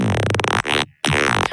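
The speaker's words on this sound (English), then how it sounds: "Which is pretty much just like a saw. It pretty much just sounds like the original sound," An ungated vocoded synth with a thick, sawtooth-like buzz in a dubstep track plays two sustained loud bursts split by a short silence, with no one talking.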